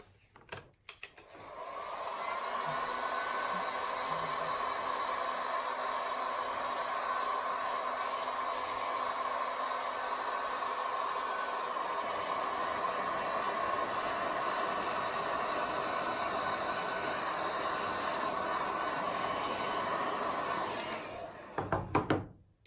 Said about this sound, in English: I'm just going to smooth that out with a heat gun.